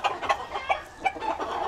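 A Clemen rooster at a breeding farm gives a few short, close clucks in quick succession, clear over faint background noise.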